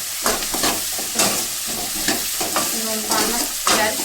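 Chopped onion sizzles in hot oil for an okra curry, with a constant loud frying hiss and repeated scraping stirs of a spoon through the pan.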